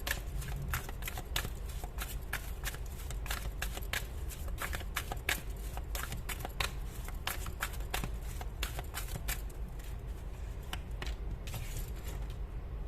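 Tarot cards shuffled in quick, crisp riffling bursts that repeat steadily and close up for the whole stretch, with no talking.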